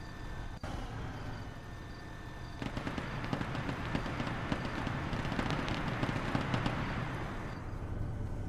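Rapid gunfire in an Arma 3 Warhammer 40k night operation, dense crackling bursts that start soft and thicken into sustained shooting, with engine rumble underneath.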